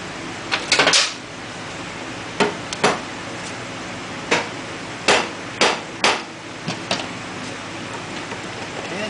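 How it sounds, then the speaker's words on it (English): A small rubber hammer strikes a BMW R1100RT motorcycle drive shaft to seat it, giving about a dozen sharp, close, irregularly spaced taps, some in quick pairs, over a quiet background. "just took a little rubber hammer, gave it a little smack"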